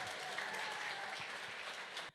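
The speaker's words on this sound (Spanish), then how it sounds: "Vamos a darle un fuerte aplauso" Audience applause at a church Holy Week gathering: dense, steady clapping from many hands throughout, fairly close and continuous, cutting off abruptly at the end.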